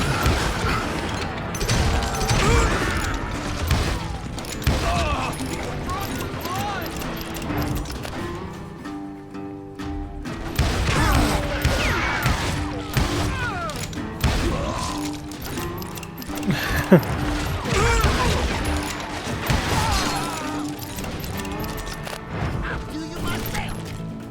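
Gunfire in the Western shooter Call of Juarez: Gunslinger, playing as Billy the Kid: dense, continuous volleys of shots and impacts with mechanical clatter, loud and close, under game voices and music, with a brief lull midway.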